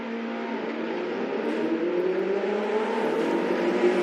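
Race cars in the Assetto Corsa video game pull away at a race start, a steady whirring engine note climbing gradually in pitch, moderately loud and continuous with no voices.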